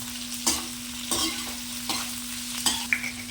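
Onions fry in a pan, a constant close sizzle broken by four rhythmic stirring scrapes and a final light clink, over a steady low hum.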